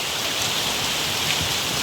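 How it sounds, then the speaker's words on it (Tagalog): Steady rain and strong wind: a dense, even hiss of drops close by with a whooshing, gusty layer beneath it and no voices. "lakas ng hangin at saka ulan"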